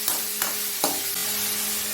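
Clove beans and salt stirred in a hot pan, with three quick scraping strokes of the spoon over a steady low sizzle, close by and with no talking.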